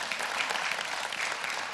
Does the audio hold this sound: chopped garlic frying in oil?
no